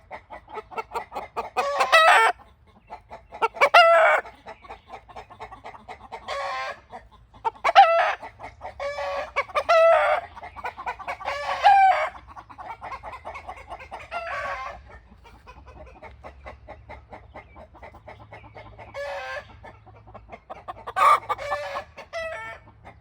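Roosters crow repeatedly, loud drawn-out calls from close by spaced a few seconds apart, with softer clucking and other poultry noise between them.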